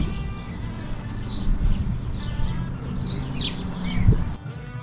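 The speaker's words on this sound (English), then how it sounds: "down to the background noise of joyful birds tweeting away" Birds tweeting in a small desert town, with bright chirps and short calls scattered throughout over a steady outdoor background hum and a brief low thump near the end.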